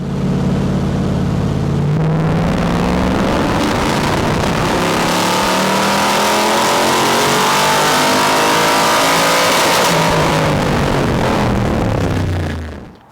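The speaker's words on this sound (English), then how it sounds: "So check out this dyno video" A 2024 Jeep Wrangler 392 engine, tuned by Livernois Motorsports, revs hard on a dyno and climbs steadily in pitch through a long pull, close and roaring, then drops off as the throttle is released.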